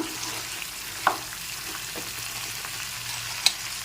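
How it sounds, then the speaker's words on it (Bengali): A pan of achari aloo dum potato curry is stirred, giving a soft, low simmering sizzle with a couple of brief spoon clinks against the pan. "ঢাকনাটা খুলে নিচ্ছি এখন একটু আরও একবার নেড়ে ছেড়ে নিলাম"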